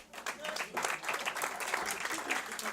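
Audience applause rings out at a heritage awards ceremony held by a consulate: dense, steady clapping from a crowd lasting throughout, fairly loud and uninterrupted.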